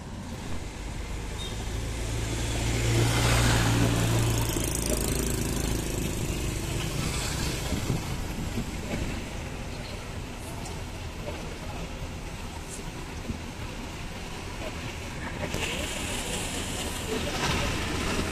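An Al Amin bus engine runs at the Tirtonadi terminal shelter in Solo as the bus departs toward Wonogiri, a steady broadband rumble with busy terminal noise around it.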